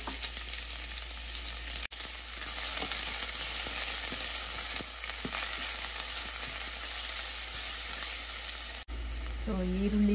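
Chopped onion and curry leaves with mustard seeds fry and sizzle steadily in a pan, a loud continuous crackle for about ten seconds, with brief stirring scrapes and a short pause near the start.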